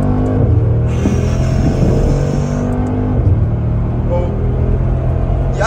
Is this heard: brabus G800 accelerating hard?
yes